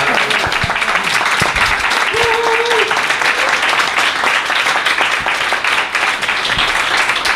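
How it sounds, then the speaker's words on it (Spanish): Loud, sustained applause from a live audience fills the whole stretch, dense clapping with some cheering and voices mixed in, recorded at a Spanish-language podcast event. "lo suyo es darle un fuerte aplauso"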